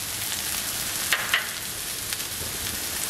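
Minced garlic and curry fry in a pan as a steady, hissing sizzle, with a couple of soft stirring scrapes partway through.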